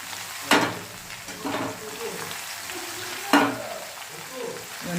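Pieces of bottle gourd drop into a hot pan with two loud sizzling bursts, followed by steady frying and scraping stirs, close and clear with no talk.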